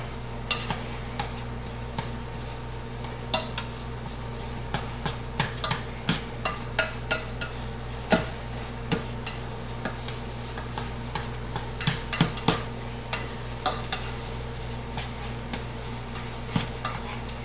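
Lean ground beef, 96% lean hamburger, sizzles steadily in a hot pan while a utensil scrapes and taps to chop and stir it, with frequent sharp clicks over a constant frying hiss and no voices.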